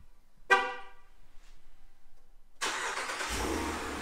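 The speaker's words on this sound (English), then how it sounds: "So let's fire up the truck." A Ram Rebel pickup truck gives a short horn chirp. After a pause its engine fires up and settles into a steady, close idle.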